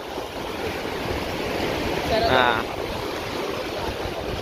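Surf at Plengkung beach, a continuous wash of waves with a brief swell of louder water midway, while someone speaks a short word over it.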